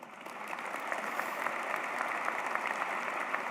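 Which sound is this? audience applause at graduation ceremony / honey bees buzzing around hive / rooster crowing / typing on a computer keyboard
audience applause at graduation ceremony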